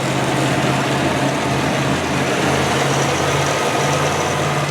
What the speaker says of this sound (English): it seems to be a very smooth running sound engine